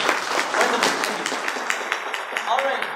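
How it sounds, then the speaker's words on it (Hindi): Audience applause at a network marketing seminar, a short burst of clapping mixed with a few voices that stays moderately loud for a few seconds. "एक बार जोरदार तालियां हो जाए"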